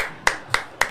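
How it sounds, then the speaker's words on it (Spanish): Three sharp, evenly spaced claps ring out in a Paraguayan football talk-show studio as people applaud the player Leguizamón, each crisp and close with brief decay and no talk over them. "La gente toda aplaudiendo a Leguizamón"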